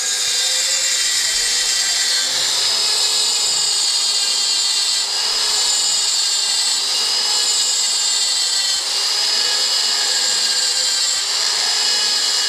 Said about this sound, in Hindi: ये मशीनों द्वारा नक्काशी खुदाई हो रही है।